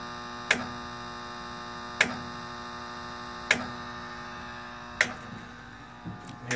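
Steady electrical hum from a Flash Technology FTB-205 high-intensity obstruction light, with a sharp tick every second and a half or so over a constant buzzing drone, nearby and alone.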